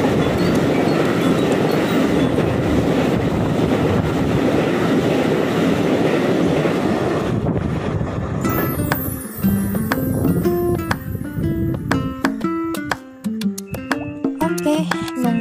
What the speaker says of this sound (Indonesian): kereta lain yang mau lewat